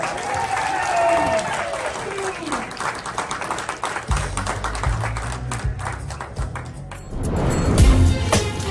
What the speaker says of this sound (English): give another round of applause for our wonderful guests of honor, Keotter and Rhubarb.